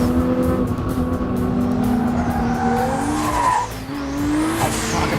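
A 1400-horsepower AMS Performance Alpha 12 Nissan GT-R drifts with a loud, sustained tire squeal over a roaring engine, the pitch sliding and rising as the car slews through the turn.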